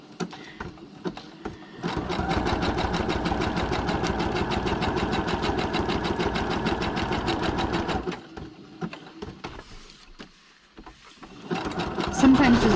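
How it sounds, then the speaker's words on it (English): A sewing machine runs a narrow zigzag stitch around a paper flower, a fast even mechanical chatter for several seconds between quieter pauses, with someone talking before and after. "I'm going to zigzag all the way around this with the skinny little zigzag here."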